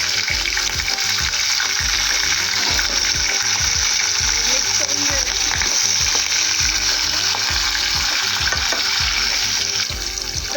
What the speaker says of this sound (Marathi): तेलामध्ये पाच मिनटं तरी कांदा आणि टोमॅटो आपण परतून घेऊया